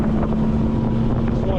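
A motorboat runs steadily on the water, its engine holding a constant drone with a low, sustained tone for the whole moment, mixed with wind buffeting the microphone.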